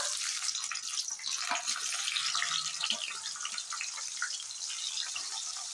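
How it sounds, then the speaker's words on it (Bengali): Cauliflower fries in deep oil for aloo fulkopi, giving a close, continuous crackling sizzle that fades slightly toward the end, with no talk. "এই তেলে আমি ফুলকপি ভেজে নেব।"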